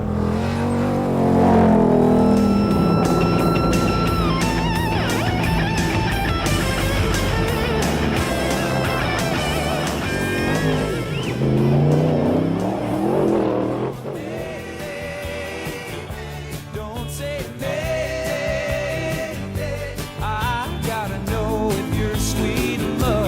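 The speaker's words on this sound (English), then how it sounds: "so too do these guys who race their pickup trucks for thousands and thousands of miles" Pickup trucks race across the desert, engines revving and whining as they accelerate and pass, with shifting pitch, loud and near at first, then a rougher rumbling stretch.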